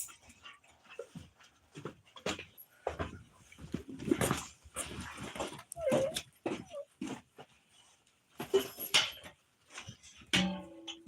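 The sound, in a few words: dogs whimpering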